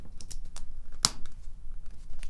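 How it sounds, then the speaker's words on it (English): LEGO pieces click and snap together during a relaxed build of a goat boat set, a few small, sharp plastic taps with one louder crisp click in the middle, close and quiet with no talking. "these bits are making really nice Lego clicking noises"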